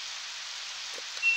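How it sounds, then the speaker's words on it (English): Steady rain from Harvest Moon 64, an even, continuous hiss of falling drops that holds at one level throughout, with a brief soft blip near the end. "it's raining outside"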